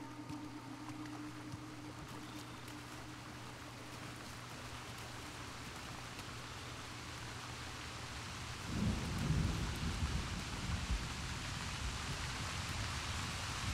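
A thunderstorm in the video game Uncharted: The Lost Legacy, with steady rain hiss throughout and a deep rumble of thunder swelling near the end, with no voices.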